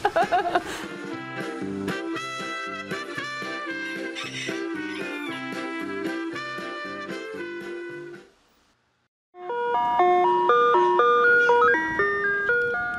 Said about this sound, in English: the judicial use of an ice cream truck music box